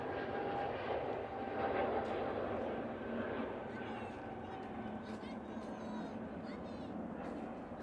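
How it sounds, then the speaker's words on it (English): An SAS airliner heads out for departure at Manchester Airport, its engines droning loudly and swelling slightly before easing back, while a person talks over the aircraft noise. "SAS is now going out"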